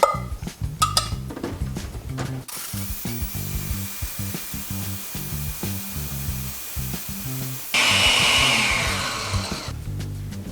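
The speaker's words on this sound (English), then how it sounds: "and then we're gonna give this stuff a blend." A kitchen blender purees beef broth for birria de res, a steady mid-pitched motor whir that jumps to a louder, harsher roar partway through, with no one speaking.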